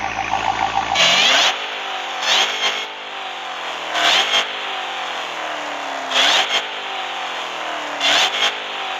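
A Dodge Charger SRT Hellcat V8 engine starts and revs in repeated sharp bursts roughly every two seconds, each climbing high then dropping back to a rough, loud idle.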